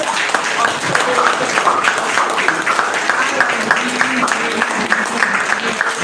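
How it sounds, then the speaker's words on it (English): A church congregation claps together in praise, a loud, dense burst of hand clapping close by that carries on for several seconds, with voices mixed in beneath it. "Let's give a God a hand clap,"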